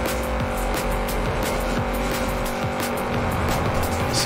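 A heavy car in the video game Forza Horizon 4 drives hard with a loud, constant engine roar and repeated tire squeals, close and continuous throughout.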